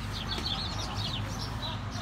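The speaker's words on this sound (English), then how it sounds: "Il y a des poules." Chickens cluck and chirp in a small group at a family birthday gathering, a continuous busy chatter of short calls heard at moderate distance over a steady background hum.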